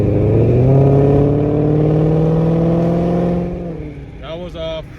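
A 2022 Shelby GT500 fitted with long tube headers roars loud and close as it accelerates in fourth gear at about 60 mph on a neighborhood street, its deep exhaust drone dominating before easing off, with a voice briefly at the end.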